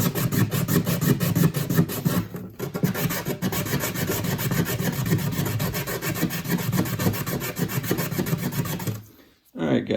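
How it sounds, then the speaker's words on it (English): 180 grit sandpaper wrapped around a plastic guitar nut sands an acoustic guitar bridge, making a continuous close raspy scrubbing with a steady back-and-forth rhythm, broken by two brief pauses. "this is 180 grit sandpaper wrapped around a plastic guitar nut."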